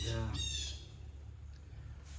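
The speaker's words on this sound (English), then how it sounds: "Blue Jay going a little nuts in the tree" A blue jay in a tree gives a couple of harsh, raspy squawks up close at the start, then falls quiet over a steady low background hum.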